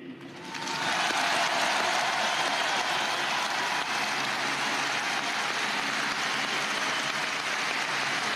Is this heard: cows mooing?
no